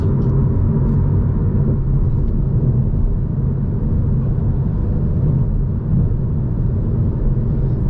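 A manual Toyota MK5 Supra on the move gives a steady, loud, low engine and road rumble from inside the cabin, with no speech.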